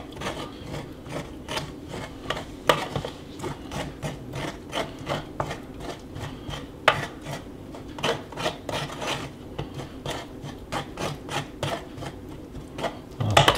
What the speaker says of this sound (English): We're going to scrape that off the bottom to get that goodness too.